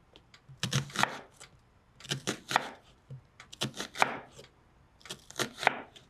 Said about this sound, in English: we're just going to make little half circles with the onion